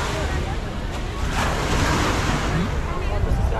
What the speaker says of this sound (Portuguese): Vou mostrar o mar pra você hoje, tá bem clarinho.